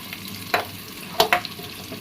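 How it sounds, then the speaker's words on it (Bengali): Prawns fry in a hot pan under a steady sizzle, with two or three sharp scraping strokes of a spatula close by. "নাড়তে হবে। চিংড়ি মাছটা লাল লাল হয়ে যাবে।"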